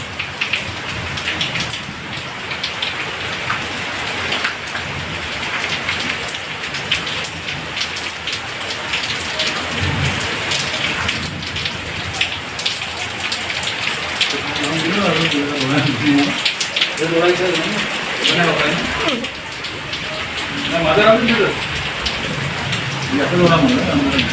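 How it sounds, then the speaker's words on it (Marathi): Heavy monsoon rain pours down steadily in a dense, constant hiss, with voices talking faintly underneath partway through. "बाहेर खूप जोरात पाऊस सुरू आहे."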